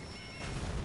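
A horse neighs in the video game Elden Ring. The short, clear whinny comes over a busy background with a soft thud partway through.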